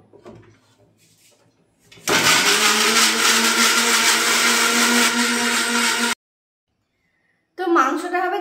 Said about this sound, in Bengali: দেখলেই মশলাটা পুরোটা করে নিলাম মিক্সিতে।